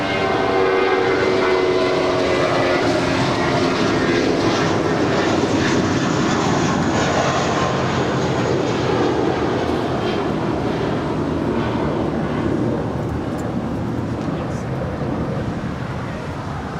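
Hawaiian Airlines airliner taxiing on the north side of LAX, a loud, steady broadband roar of engines and rumble filling the whole stretch, slowly fading slightly toward the end with no voices.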